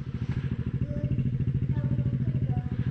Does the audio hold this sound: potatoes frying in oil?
no